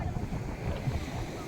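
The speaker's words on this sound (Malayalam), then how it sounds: "പക്ഷെ കാറ്റ് വന്ന് ഊതുമ്പോ അത് ചെറിയ തിരമാലയായിട്ട് അപ്പുറത്ത് തെളിക്ക് പോവാണ്" Waves wash in at the shore while wind gusts buffet the microphone, making a steady, close rushing roar with low thumps from the surf.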